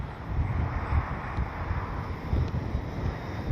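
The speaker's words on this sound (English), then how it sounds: "Yeah, it's crazy windy right now." Strong wind at an RC plane flying field buffets the microphone in a low, rumbling roar with gusty surges, steady and fairly loud, no voices.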